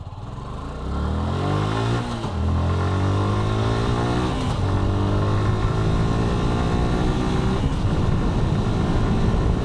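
A Suzuki Gixxer FI disc-brake motorcycle runs flat out on a road during a top speed run, its loud engine note climbing through repeated gear changes in rising sweeps, with no talk.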